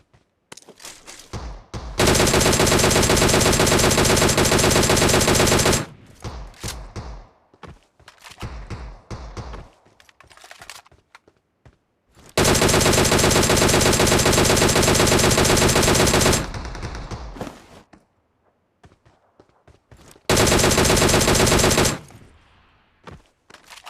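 Long sustained bursts of automatic gunfire from PUBG Mobile erupt loud and continuous at a military base, separated by shorter single shots and quieter gaps.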